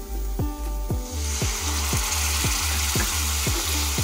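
Water added to onions frying in a hot wok for a bhendi masala: a loud, sustained sizzle builds and hisses, while a utensil scrapes the pan in a steady, repeated stirring rhythm.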